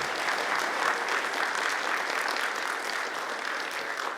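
An audience at a startup funding event applauds the panelists with steady, full clapping from a seated crowd in a hall, continuous and fairly close, no talk over it.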